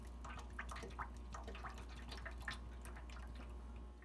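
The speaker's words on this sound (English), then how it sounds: "So what we're going to do now is finish filling up" Corn oil poured into a home deep fryer to fill it to the limit line, a soft continuous liquid trickle with small splashy drips, faint and close.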